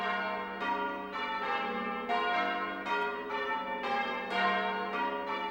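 Bells of the Anglican cathedral in Quebec ring out in a series of resonant, overlapping strikes with long ringing tails, each new peal landing roughly every second.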